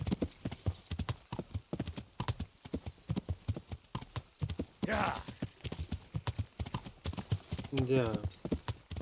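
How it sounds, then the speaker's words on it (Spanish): Horse hooves clip-clop steadily and close while riding in the Kingdom Come: Deliverance video game, a fast, even rhythm of sharp strikes throughout, with two brief voiced sounds rising over it. "Sobre todo cuando voy en caballo."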